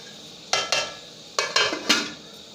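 A metal lid is set onto a pot of tomato chicken curry, giving five sharp clanking knocks in two quick bursts, close and loud, with no one speaking.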